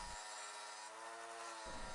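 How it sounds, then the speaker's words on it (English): A wire brush scrubs mill scale off a hand-forged steel cutlass blade, making a close, steady, raspy scratching that continues without a break. "I'm going to go over the blade with a wire brush. This will remove the worst of the mill scale."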